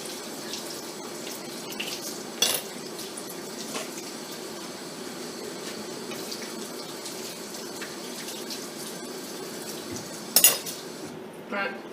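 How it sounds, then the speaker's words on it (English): Dishes being washed under a running hot tap to get chocolate off, with a steady hiss of water and a couple of louder clinks of cutlery and dishware, fairly close and with no talking. "to take chocolate out of the dishes sometimes, it takes a while. You have to use a lot of hot water."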